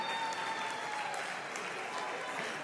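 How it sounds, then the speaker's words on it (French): A live audience at a talent show applauds, a dense, steady wash of clapping that stays loud and even throughout, with crowd voices blended underneath. "Est-ce qu'on peut applaudir pour aider l'ambassadrice Roselyne à se rasseoir, s'il vous plaît?"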